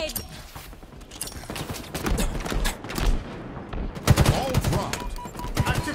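Grenade and gunfire in a Halo Infinite match: scattered bursts of shots and impacts through a busy battle mix, with a louder cluster of blasts near the end, under a player's speech.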